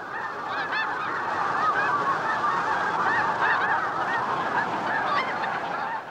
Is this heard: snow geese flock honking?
yes